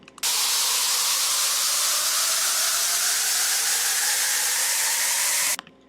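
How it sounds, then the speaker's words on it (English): A white noise riser for a Swedish House Mafia and Nicky Romero style electronic dance build-up, a bright, dense hiss that starts abruptly, holds steady and loud for about five seconds, then cuts off sharply. "It was just a lot of white noise with a riser sort of behind it."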